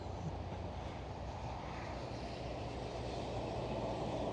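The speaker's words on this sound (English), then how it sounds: "there, a takeoff from runway 18 left, above the Queen" A jet airliner takes off from runway 18 Left at Amsterdam Schiphol Airport, giving a steady, distant, broadband engine roar that stays fairly faint and constant, with no voices.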